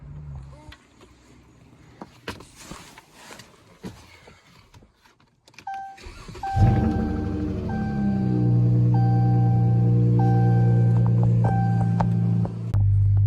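A Dodge Challenger at night: its deep engine rumble starts up partway through and holds steady and loud, with a few short electronic chime beeps over it after a quiet stretch.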